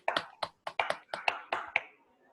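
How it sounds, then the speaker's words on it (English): A small meeting audience claps after an academic talk on maximum likelihood estimation and tensors, producing about a dozen sharp, uneven hand claps over two seconds, close and moderately loud, with no talk. "Clap for a great talk"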